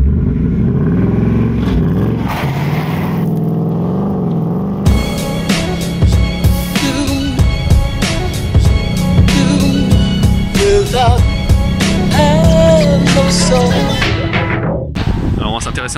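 A 2018 Ford Mustang fastback with a 5-litre V8 rumbles low as it pulls away. The engine note rises and then carries on under a busy, loud mix of other sound.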